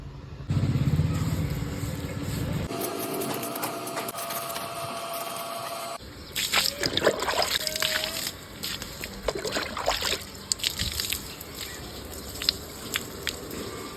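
Household cleaning with water and a scrubbing brush during Navratri preparations: a steady mechanical drone gives way to irregular scrubbing, squishing and dripping splashes nearby, with no talking.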